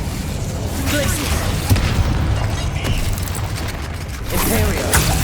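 A Glacius freezing spell cast in Hogwarts Legacy lands amid a dense, busy game soundscape, with a heavy booming burst and crackling effects continuing for several seconds over a steady low rumble.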